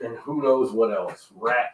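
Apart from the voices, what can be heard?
None of the usual background noises is heard.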